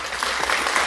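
Soundboard applause and cheering effect, a dense steady wash of many clapping hands with faint crowd cheer, loud and continuous for under a second with no talk over it.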